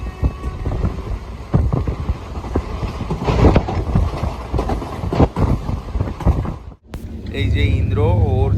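The Teesta Torsa Express passenger train runs with a loud, continuous rumble and rattling clatter for about seven seconds. After a brief break, a different warbling tonal sound follows.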